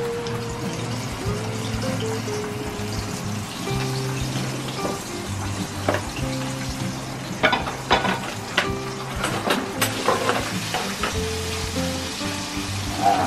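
Oil sizzles steadily as chicken wings and sweet potato fry, with scattered pops and crackles and some clinking in the background.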